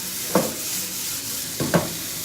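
Onions stirred in a pan for a vegan black bean and vegetable rice dish: a steady sizzle with two brief scraping stir strokes near the start and again later, close by, with no talking.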